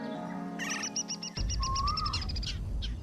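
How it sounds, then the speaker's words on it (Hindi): Several small birds perched in a tree chirp and twitter in quick repeated notes, with a brief whistled call among them, fairly faint and without any talk. "ऊपर उस पेड़ पर कितनी सुंदर चिड़ियाएं बैठी हैं।"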